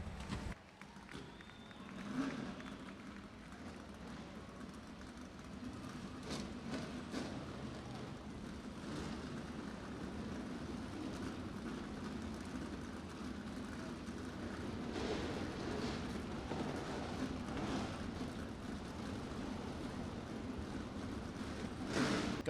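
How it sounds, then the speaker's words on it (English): USAC race cars start up at Du Quoin State Fairgrounds, a broad, sustained roar of several engines rumbling and rising together across the dirt track, with crowd and announcer noise mixed in. "Gentlemen, start your engines."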